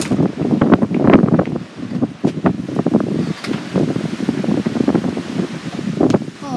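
Strong hurricane wind roars and gusts hard against the microphone in surging waves, loud and close, with rustling debris and no talking.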